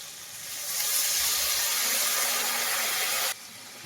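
Boiling hot water is poured into a pan of frying tangra fish curry, setting off a loud, steady hiss of steam and sizzle that swells in, holds for nearly three seconds and then cuts off sharply.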